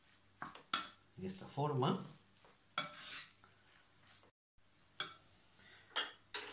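Meatball mixture stirred with pepper in a bowl gives several scraping, clinking utensil strokes against the dish, close and moderately loud, with brief pauses. A voice speaks briefly.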